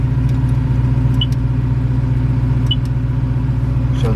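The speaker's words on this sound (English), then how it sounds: "show it idling" A 1968 Ford Mustang 302 V8 long block idles with a steady, loud, close-up rumble and an even low burble, with a couple of faint ticks over it.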